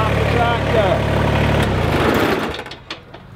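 A tractor engine idles with a steady low mechanical drone that holds for over a second, then drops away as the motor is switched off and winds down to near quiet.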